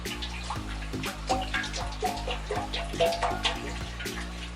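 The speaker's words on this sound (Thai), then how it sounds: "ใส่น้ำลงไปค่ะ" Water pours steadily into a pot for a Thai chili fish curry broth, a continuous splashing gush heard close by without talk.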